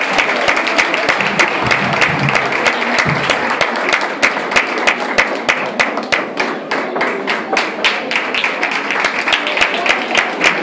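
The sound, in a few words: applause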